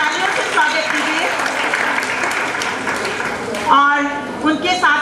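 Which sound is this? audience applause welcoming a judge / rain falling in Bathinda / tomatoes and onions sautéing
audience applause welcoming a judge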